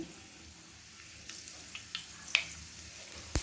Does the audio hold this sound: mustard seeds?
yes